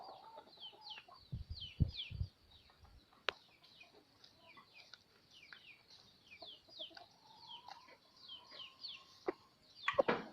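Young F1 golden-feathered chickens, still short-feathered and weak, cluck and chirp in a farm setting, with repeated short calls in a steady busy chorus at moderate distance and a few louder nearby peeps.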